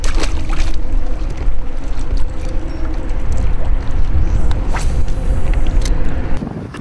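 Wind blows steadily across a lake from a boat trolling crankbaits on a bright day, a loud, continuous roar and rumble of buffeting air with faint water sounds underneath.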